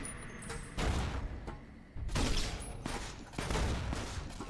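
Gunshots in Fallout: New Vegas: several loud, sharp reports each ringing out into a booming tail, spaced about a second apart, with fainter background game sounds between them.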